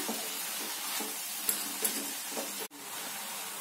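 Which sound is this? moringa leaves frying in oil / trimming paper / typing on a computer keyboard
moringa leaves frying in oil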